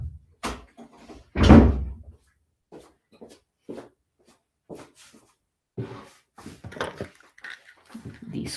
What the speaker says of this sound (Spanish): voy a cerrar esta puerta